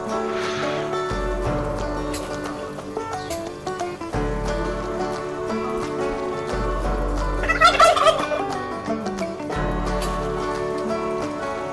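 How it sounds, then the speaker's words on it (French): Geese on a farm in French Guiana, three birds honking and gabbling repeatedly in bursts, close and fairly loud, with one livelier flurry of calls midway. "Les oies, il ne reste plus que 3 oies"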